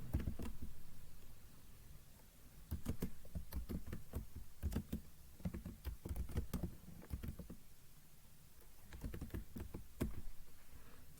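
Rapid bursts of keystrokes on a computer keyboard, typing a channel name into a single Excel spreadsheet cell: close, crisp clicks in several quick runs separated by short pauses.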